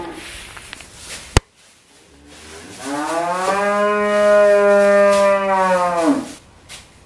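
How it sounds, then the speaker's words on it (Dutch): A cow bellows in a barn after being separated from her calf, one long, loud, rising-then-falling moo lasting several seconds, preceded by a sharp knock and followed by quiet. "de koeien en de kalveren die schreeuwen een paar dagen na elkaar"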